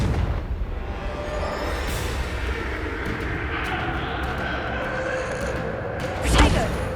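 A Confringo fire spell explodes in Hogwarts Legacy, a rumbling blast sustained for several seconds with a sharper burst near the end, heard alongside a shouted spell.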